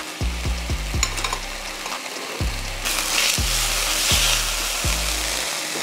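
Korean beef for tacos cooking in a pan, with a steady sizzle under repeated low thumps and knocks spaced through the clip, growing louder and hissier midway, no voices.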